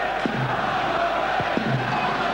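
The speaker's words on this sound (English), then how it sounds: "You can tell the noise in the crowd suggests that too" Derby County fans murmur and call out in a Premier League football stadium during a match against Liverpool, a steady mid-level crowd hum with a few brief shouts rising from the background.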